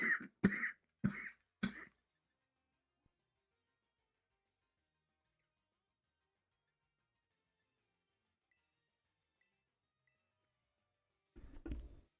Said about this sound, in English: Sorry about that. I was coughing.